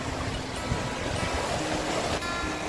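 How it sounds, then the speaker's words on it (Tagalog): Strong sea waves at sea near a paddled boat, a loud continuous roar of rushing surf and churning water filling the whole moment, steady and close with no voices. "Malakas ang alon."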